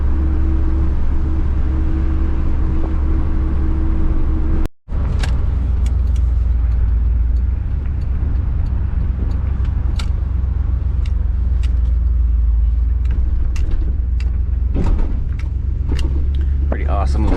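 A car nicknamed Rusty drives along with a steady, loud engine and road rumble throughout and a brief dropout partway through, with occasional clicks and knocks over the drone.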